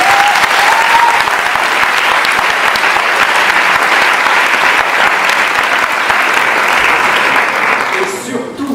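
Audience at the 2018 Eloquentia Bordeaux speaking-contest final applauding, a loud sustained wash of clapping that holds steady for several seconds and then tapers off, with voices mixed in.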